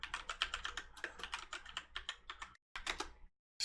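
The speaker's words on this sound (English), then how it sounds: "You can hear me typing." Fingers type on a computer keyboard in quick irregular bursts of crisp clicks, close and clear, with a short pause before a final flurry of keystrokes.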